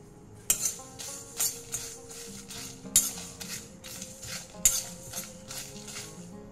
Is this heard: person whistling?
no